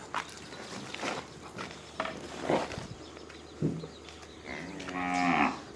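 Cattle at a farm mooing repeatedly while being led inside, several low calls, one drawn-out moo near the end, with footsteps and faint background sounds.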